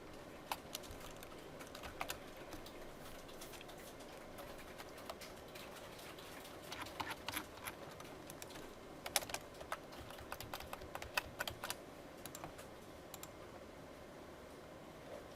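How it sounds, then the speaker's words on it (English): Fingers type on a computer keyboard, soft scattered key clicks at an irregular pace with occasional short bursts, faint against a quiet room. "I'm just typing it here"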